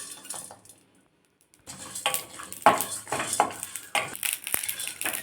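Black pepper, cumin and garlic dry-roasting in a pan with no oil, heard as scraping stirs against the metal with light crackles, faint and close, after a short quiet start.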